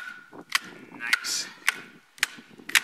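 A knife chops into hard pine wood in several sharp, separate strikes spaced roughly half a second apart, each a crisp close impact over faint background sound.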